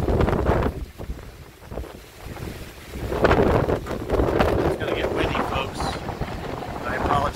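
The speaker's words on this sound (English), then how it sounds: "It's going to get windy." Strong gusty wind from Hurricane Ian on the Florida coast roars and buffets the microphone in surging waves, with surf nearby and a person talking under it.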